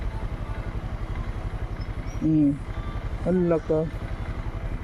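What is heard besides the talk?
motorcycle engine straining, unable to climb road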